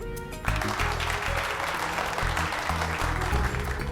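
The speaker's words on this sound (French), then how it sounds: "Mais applaudissez-la!" An audience claps at a competition, a dense burst of applause starting abruptly after a brief pause and holding steady and close for several seconds.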